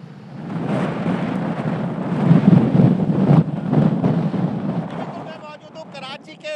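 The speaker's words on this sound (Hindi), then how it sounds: "जहाँ मिट्टी का तूफान है, रेत का तूफान है, ठंडी ठंडी हवाएं चल रही है" Strong wind from a sandstorm on the Karachi seashore, a roaring, buffeting rumble that swells and gusts throughout, close to the microphone, with faint tonal sounds near the end.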